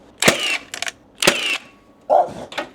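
Sharp, loud clicks of a nail gun firing while an IKEA PAX built-in wardrobe is fitted, four or five quick shots in uneven bursts, close by, with no talking.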